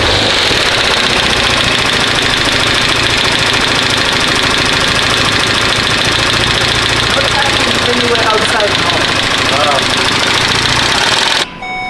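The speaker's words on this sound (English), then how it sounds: "we somehow got a bearing knock on this engine" A Golf 7.5 TCR engine with a bearing knock runs loud and close, a steady rough drone with a rapid rhythmic knocking throughout, cutting off abruptly near the end.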